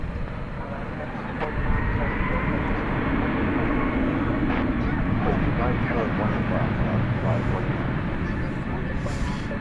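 An airliner rumbles at night at DFW Airport near runway 18 left, a steady broad engine roar holding throughout, while a voice talks over it.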